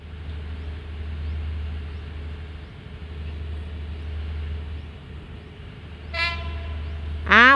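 A train rumbles steadily at Hua Lamphong station in Bangkok, a low continuous roar alongside the platforms, then a locomotive horn sounds twice near the end, the second blast louder and closer.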